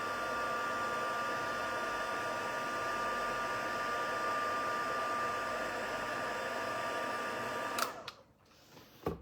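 A heat tool melting silver embossing powder on a card blows a steady, loud whirring hiss for about eight seconds, then cuts off abruptly into near quiet.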